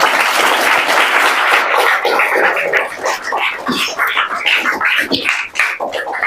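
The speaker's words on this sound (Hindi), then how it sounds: "इसको ले ताली बजा दो भाई" Students applaud in a room at a gathering of IIT students, starting as a dense, loud burst that thins into scattered, uneven claps toward the end.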